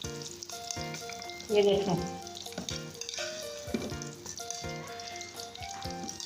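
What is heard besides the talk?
cauliflower frying in oil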